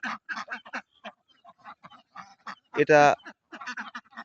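A duck on a leased duck farm gives one loud, harsh quack partway through, heard under steady nearby conversation.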